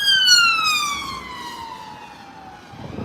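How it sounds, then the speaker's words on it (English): An ambulance siren wails past on a northwest London street, a loud falling tone that drops in pitch as it moves away, with traffic noise rising at the end. "While an ambulance passes us by"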